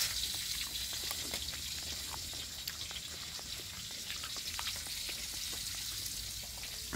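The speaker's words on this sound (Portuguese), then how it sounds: "Tá fritando aqui." Steady sizzling and crackling of food frying in a pan, close and continuous with small pops throughout, no talking.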